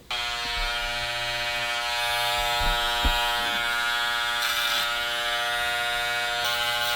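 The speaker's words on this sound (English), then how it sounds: "I'm gonna use some more clipper over comb to help this hair flow backwards." Electric hair clippers running clipper-over-comb during a men's haircut, a steady close buzz with harmonic whine throughout, briefly changing pitch as blades move through hair.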